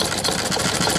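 An old Olds stationary engine running under governor control, firing with a steady rumbling, knocking chug, loud and close, continuous through the moment with no talk.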